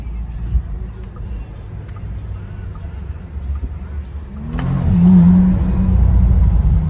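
A Ferrari car accelerates hard near Monaco, the engine rumble swelling midway into a louder, strained roar that holds to the end, with a rising engine tone over steady road noise.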